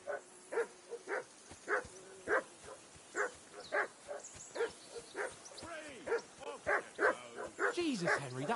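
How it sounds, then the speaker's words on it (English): A dog barks repeatedly in Kingdom Come: Deliverance 2, a steady run of close, loud barks and yips about twice a second, growing busier and more agitated toward the end. "Jesus, Henry, that barking's driving me nuts. Can you get your dog to shut its beak?"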